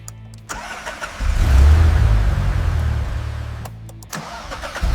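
An old BMW car with a newly fitted exhaust and upgraded engine starts up and settles into a deep, loud rumble close by, its low drone swelling after the start, then easing toward a steady idle with no talking.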